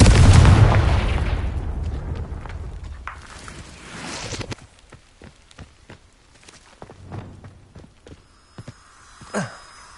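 A Confringo blasting curse in Hogwarts Legacy erupts in a loud, booming explosion that rumbles and slowly fades over several seconds, followed by scattered footsteps and faint small clicks.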